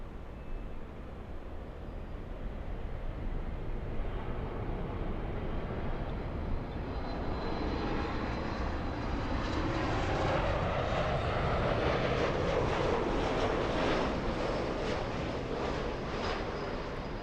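An airliner's jet engines spool up and roar on takeoff from runway 24 left at LAX, a steady, moderately distant rumble that swells and grows louder toward the end with no talking.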